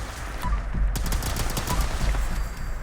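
Rapid bursts from an Enclave plasma rifle in Fallout 76 fired at a level 60 Super Mutant Behemoth, a loud run of sharp, crackling shots in quick succession over heavy low thumping, continuous across the whole stretch.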